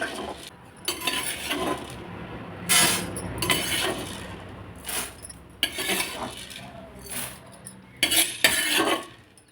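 Urad dal is roasted in a pan for pirandai podi, with repeated bursts of spoon scraping and clinking against the metal as the lentils are stirred, separated by quieter gaps.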